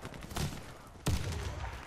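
Gunfire from the online shooter Warface: a close, loud shot bursts out partway through after a softer rumble of combat noise, with no talk.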